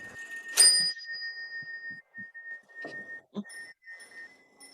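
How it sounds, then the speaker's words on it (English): Clock bell struck on the hour by a mechanical figure of death, sparse metallic strikes with long ringing overtones fading in a quiet room, alongside a few softer knocks. "On the hour, the figure of death strikes on the bell to remind you that you've got another hour nearer meeting your maker."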